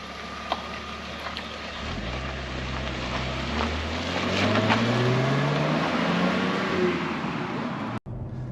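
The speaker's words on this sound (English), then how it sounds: "very, very distinctive, an inline 6, very distinctive sound" BMW 325ti Compact with an inline six-cylinder engine out on the road: a steady engine drone rises in pitch as it accelerates through the gears over road and wind noise, heard from inside the car without talking.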